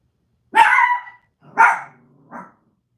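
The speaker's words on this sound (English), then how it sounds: "If you guys hear that little bark in the background" Small chihuahuas bark through a closed door indoors, three sharp yips in quick succession, the first loudest and the rest tapering off, with no talking over them.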